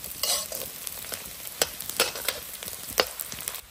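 River snails stir-fried with chili in a wok over a wood fire, giving a steady close sizzle with repeated sharp scraping stirs of the spatula.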